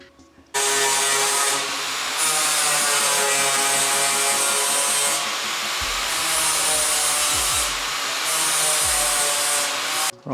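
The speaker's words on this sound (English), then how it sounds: "you'll jump on that now with a 40 grit flapper disc, flatten those up" Angle grinder fitted with a 40 grit flap disc flattens plug welds on an XC panel van while drip gutters are replaced, giving a loud, steady, close rasping whine with brief dips in pressure.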